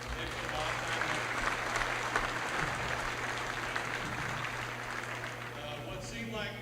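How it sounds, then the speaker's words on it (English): Audience applause in a school gym at its opening ceremony, a steady sustained clapping from a crowd over a low hum, with a speaking voice faintly present beneath it. "them a round of applause"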